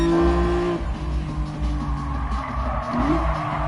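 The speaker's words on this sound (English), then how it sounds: "Ooh, a little bit cheeky oversteer on the way out." A race car in the GT Sport video game oversteers, its engine droning steadily while tires squeal briefly, a pitched skid sliding near the end, loud and close.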